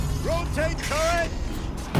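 A turret rotates in Horizon Zero Dawn, a short mechanical whirring and creaking with rising and falling whines, close and fairly loud, ending in a sharp clunk.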